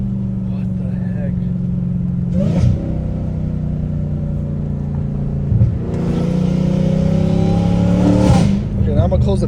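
A catless Dodge Hellcat Redeye with exhaust valves closed rumbles at a loud, steady idle, then rises in a long rev midway and holds a harsh drone before dropping back, close by outdoors in a neighborhood.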